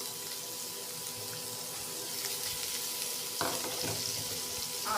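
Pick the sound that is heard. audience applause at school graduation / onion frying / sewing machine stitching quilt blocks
onion frying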